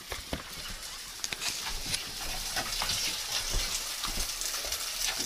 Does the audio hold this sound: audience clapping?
no